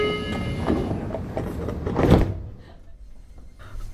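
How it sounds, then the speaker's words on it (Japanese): Train sliding doors close at a platform 1 station, a mid-level mechanical rumble and thud building to a brief peak, followed by quieter ambient station noise. "1番線ドアが閉まります、"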